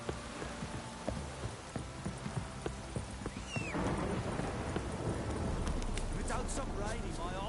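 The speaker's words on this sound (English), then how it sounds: "This downpour's a bastard" A rain downpour in The Witcher 3 on PS5 starts light under clopping horse hooves and a speaking voice, then swells about halfway through into a heavy, hissing rush with occasional thunder.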